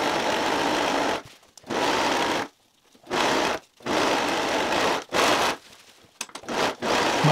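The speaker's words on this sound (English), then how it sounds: "Now I'm just gonna serge the outside edge as well as the short edge of the pocket." Serger stitching along the outside and short edges of a shorts pocket, a loud close rapid whirring in repeated bursts separated by brief pauses.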